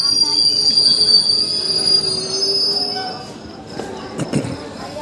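Uttarbanga Express wheels squeal in a high, sustained screech as the train arrives at Rampurhat station, with rumbling carriages and scattered clanks beneath and faint voices in the background.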